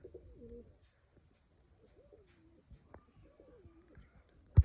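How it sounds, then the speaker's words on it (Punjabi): Pigeons coo softly in low, rolling calls, a few spaced out over a quiet background, ending with a sharp bump. "ਕਬੂਤਰੀ ਰਾਜਨ ਵਾਲੀ ਪਿਓਰ ਕਬੂਤਰੀ"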